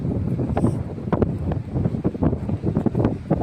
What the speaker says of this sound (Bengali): তো এই দেখো ফাইনালি চলে এসেছি বিচ পাড়ে